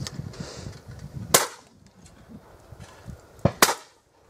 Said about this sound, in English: So that's my new Browning B525 in action